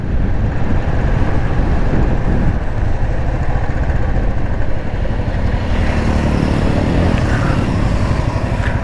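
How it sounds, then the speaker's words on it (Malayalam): A motorcycle engine climbs a hill at 60 km/h, a loud, steady drone that holds for the whole stretch, mixed with wind rush and no talking. "60 സ്പീഡിൽ വണ്ടി ആ കയറ്റം കയറി പോന്നിട്ടുണ്ട്."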